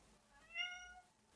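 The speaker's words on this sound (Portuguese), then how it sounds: "Esse gato. O meu gato." A single house cat lets out one clear, drawn-out meow at moderate volume over a quiet room, with no one talking.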